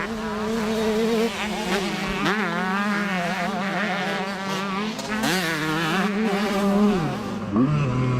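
A 33-year-old Honda CR125 two-stroke motocross bike races with the throttle held wide open, its high-pitched engine wailing and rising and falling through gear changes, loud and close, with other bikes buzzing around it.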